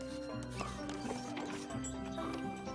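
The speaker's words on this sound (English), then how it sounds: "And those there are horse-drawn carriages." Cartoon horse hooves clip-clop steadily as ponies pull a horse-drawn carriage, the rhythmic clopping mixed with background music and soft voices.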